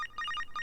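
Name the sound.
phone ringing in the video game Psycho-Pass: Mandatory Happiness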